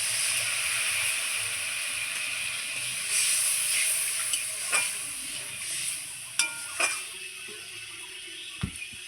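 Water added to fried mango pieces in a pan for a sour fish-roe curry sets off a moderate hissing sizzle that continues, broken by several sharp clinks and scrapes of a utensil.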